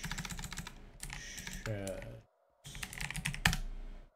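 Rapid keystrokes on a computer keyboard while typing in game add-on settings, clattering in dense bursts that stop briefly for a short silence before resuming, with a sharp click near the end.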